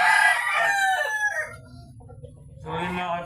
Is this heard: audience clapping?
no